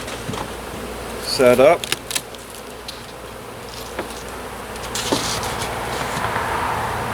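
Honeybees hum around an opened three-deep hive with a polystyrene and reflectix top cover during an early-March inspection, a low steady buzz broken by a brief spoken remark, some handling clatter and a short tonal whine near the start.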